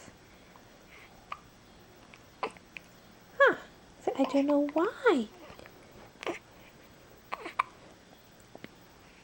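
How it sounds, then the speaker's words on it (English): A person gives a few short, sharp hiccups spaced several seconds apart, close to the microphone, with brief talk and vocal sounds between them. "I don't know why I got the hiccups."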